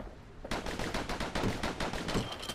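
Rapid gunfire from dueling pistols in the Bastion video game, a dense burst of loud repeated shots in quick succession with no talk.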